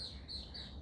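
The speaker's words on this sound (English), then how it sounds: "birds are chirping" Birds chirp in short, repeating high-pitched calls, faint and somewhat distant over a quiet outdoor background, with no talking during the brief moment.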